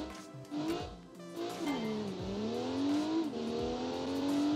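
A Ford Barra engine in a sleeper car runs and revs hard, its loud, steady roar climbing and dropping through several throttle blips and rising revs, heard up close with no talking.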